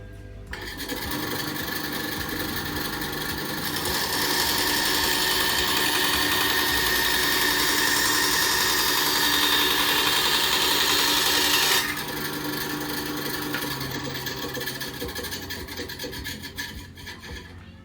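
A Ryu RBS 8 8-inch bandsaw cuts through a 1.5 cm board of Dutch teak, a steady loud rasping whine that rises when the blade bites in and holds for about eight seconds before easing back to the running motor.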